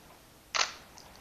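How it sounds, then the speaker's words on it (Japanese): A camera's mechanical shutter fires once, giving a single short, quiet click with a faint mechanical tail, close by and on its own with no voices. "これメカシャッターです"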